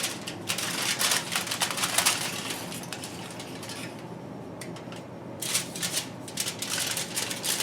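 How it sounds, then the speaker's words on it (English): Aluminum foil crinkled and folded up around a salmon fillet in a kitchen, with bursts of crisp rustling and crackling that pause briefly midway before resuming, close and fairly loud, with no talking. "fold up all 4 sides of the foil"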